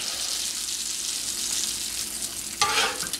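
Bacon frying on a flat steel griddle, a constant bright sizzle that flares into a louder hissing burst near the end as a strip is turned.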